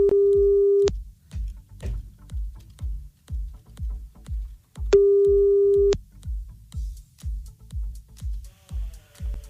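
A telephone line plays a repeating beeping tone while a call is placed back: two long steady tones separated by a gap, with a rhythmic pulsing pattern underneath.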